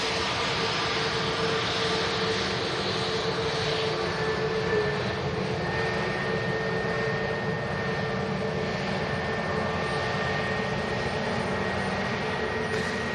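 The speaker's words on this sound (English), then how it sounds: "One EasyJet arrives, one on the departure roll." An EasyJet airliner arriving at Manchester Airport sets up a steady, broad engine roar with faint tonal whines, continuous and unchanging at a moderate distance.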